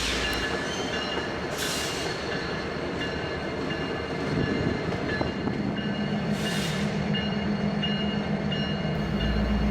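An AC-46AH diesel locomotive, a refurbished ex-CSX AC6000, rolls along the rails with a loud, continuous engine rumble, steady wheel noise and two brief high squeals.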